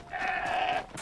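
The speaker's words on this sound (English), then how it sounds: "That's a goat. Also a goat." A goat in the Horizon Zero Dawn video game lets out a single short bleat, a clear nasal tonal call lasting under a second, heard alone without talk.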